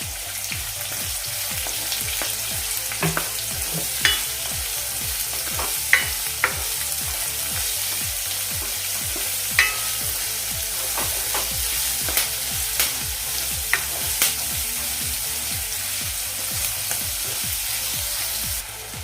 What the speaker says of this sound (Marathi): आता यामध्ये मी कांदा घालते कांदा आणि कढीपत्ता एकत्रच घालते